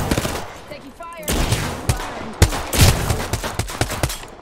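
Gunfire in Apex Legends rings out in loud, close bursts and single cracks, with rapid automatic volleys spread through the clip amid game noise.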